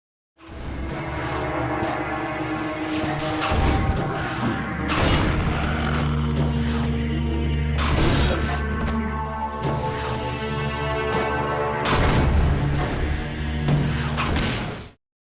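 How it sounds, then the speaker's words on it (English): Physics objects crashing and slamming in Half-Life 2 as a Gravity Gun hurls them, heavy thuds and clattering impacts repeating every few seconds over a steady mechanical hum and game music. "The Gravity Gun, Half-Life 2."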